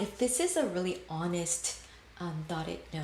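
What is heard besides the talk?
None of the usual background noises is heard.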